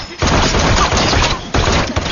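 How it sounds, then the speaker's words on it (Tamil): Gunfire erupts in a superhero movie as a loud, dense fusillade of shots with crashing impacts, in two close bursts separated by a short break. "அடுத்த செகண்டே அவங்களும் சுட ஆரம்பிச்சிடுறாங்க"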